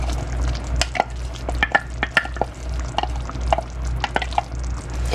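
Spoon stirring drained kidney beans and frozen corn through simmering chili in a pot: a steady run of scraping and soft clacking with wet, irregular knocks, moderately close, with a low steady hum underneath and no voices.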